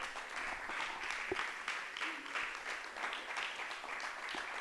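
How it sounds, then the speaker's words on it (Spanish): A church congregation claps in praise, a soft, steady patter of applause heard from some distance, even and unbroken. "Véndale un aplauso al Señor si lo cree así."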